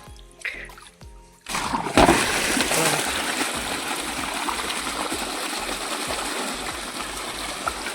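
After a short bit of talk, water gushes steadily from a motor-pump pipe and splashes onto guinea grass, a loud continuous rushing flow.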